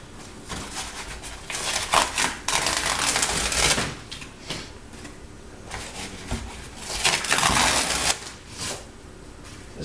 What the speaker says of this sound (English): strips of cardboard like this here. And I find that strips works good.